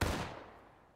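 Musket volley from a line of Civil War soldiers in the game War of Rights, a single loud burst that decays over a second into a rolling echo.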